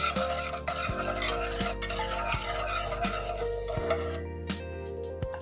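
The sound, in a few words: whisking mixture with water for flan caramel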